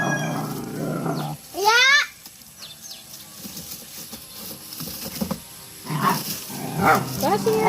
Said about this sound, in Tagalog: Kasi aso man ay.